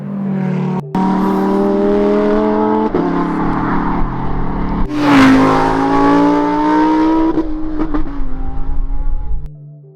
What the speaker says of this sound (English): enjoy some unfiltered V10 sound